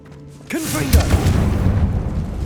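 A Confringo blasting curse in Hogwarts Legacy detonates with a sudden loud boom after a brief whooshing cast, followed by a rumbling, crackling tail; a voice is heard just before the blast.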